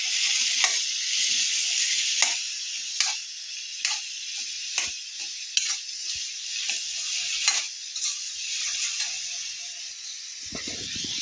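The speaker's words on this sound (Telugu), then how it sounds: "టమాటా చిన్న ముక్కల కింద కట్ చేసుకొని వేసుకోవాలి దాంట్లోనే కొద్ది పసుపు కూడా వేసుకోవాలి వేసుకొని బాగా మగ్గించుకోవాలి" Small tomato pieces with turmeric sizzle steadily in a pan, with scattered light ticks and scrapes from stirring throughout and no voices.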